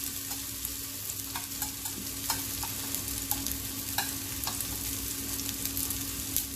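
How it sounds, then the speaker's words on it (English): Homemade turkey kababs fry in oil over a lowered flame, giving a steady soft sizzle with scattered sharp pops and crackles and a faint constant hum in the background, no voices. "I'll lower the flame now and just leave these kababs"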